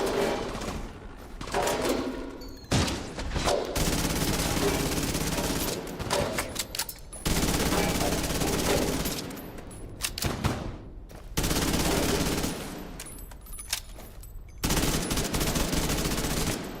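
A turret in a shooter game fires long, loud bursts of rapid automatic fire, heavy and close, stopping briefly between volleys and resuming several times, with no voices over it.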